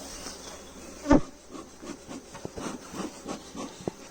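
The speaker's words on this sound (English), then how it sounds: "Hang on, there's two bees here." Bees buzz close by in short, intermittent bursts, with a loud thump early on and faint rustling between the buzzes.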